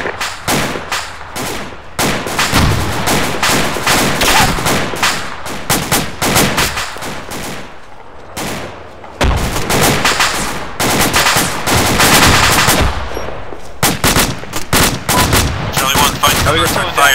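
Dense gunfire rattles through an Arma 2 video game battle: close bursts of automatic fire and single shots repeat in rapid, uneven volleys, loud and sustained with brief pauses.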